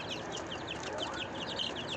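Fifty seven-day-old Satpuda native chicks in a brooding cage chirp continuously in high, overlapping peeps, a dense, close chorus with a faint background hum.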